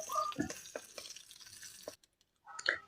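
Onions and curry leaves stirred and frying in a pan for a Kerala vazhuthananga curry, a steady close sizzle with scraping spoon strokes that stops abruptly, then a short burst of frying returns after a pause.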